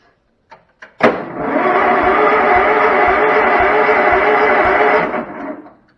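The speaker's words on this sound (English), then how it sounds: "Okay, it's turning over the engine." After a couple of clicks, the small engine of a 35-year-old Cub Cadet garden tractor, powered by a jump pack, cranks over steadily for about four seconds with a rhythmic churning, then winds down and stops.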